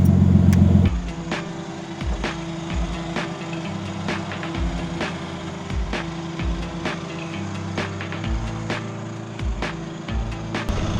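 Nissan Skyline R32 engine held at the rev limiter on the street, a close, raspy engine note that stutters in quick, regular cuts, with loud popping bangs repeating through the clip.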